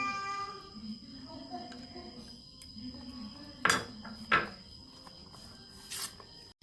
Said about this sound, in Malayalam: ഇപ്പോൾ ഇതിലിട്ട് ഇളക്കി ഇനി മയണൈസും കൂടി കൂട്ടി ഇളക്കിയെടുക്കാം കേട്ടോ